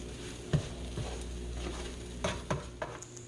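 Potatoes and onions frying in a skillet while being stirred, a steady soft sizzle broken by a few sharp scrapes and clinks of a utensil against the pan, with no voices.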